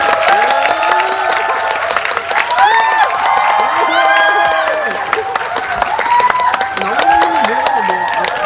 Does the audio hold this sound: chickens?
no